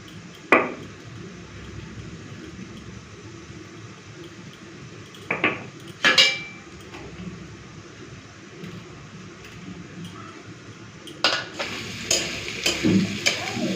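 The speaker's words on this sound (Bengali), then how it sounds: "এই যে দেখুন আলুটা পুরো লাল করে ভেজে নিয়েছি" Potatoes fry red in a pan with a low, soft sizzle under occasional sharp clinks and scrapes of a spoon against the pan, heavier toward the end; no talking.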